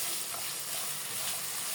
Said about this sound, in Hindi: ये मैंने प्याज डाले, अब इसको मैं डार्क गोल्डन करूँगी।